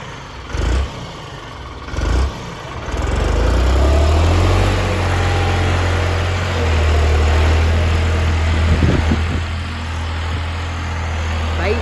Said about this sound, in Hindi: भाई ट्रैक्टर भर गया, लोड हो गया है और अब यहाँ से जा रहे हैं हम।